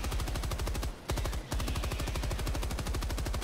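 Rapid sustained automatic fire from an MG-43 machine gun in Helldivers 2, loud and close, with a steady fast rhythm of shots broken by two brief pauses near the middle.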